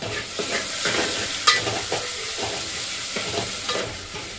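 Onion and a bay leaf sizzle in hot oil for a dal tadka, with a steady crackling hiss and repeated scrapes of a spoon stirring, plus one sharp clink of metal near the middle.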